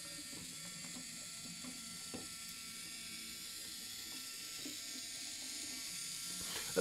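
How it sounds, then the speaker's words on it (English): A Fujifilm X-H2 mirrorless camera fires a fast, continuous burst, its shutter giving a steady run of tiny mechanical clicks against a faint background hiss. The sound stays quiet and even throughout, and no voices are heard. "Let's press the shutter all the way."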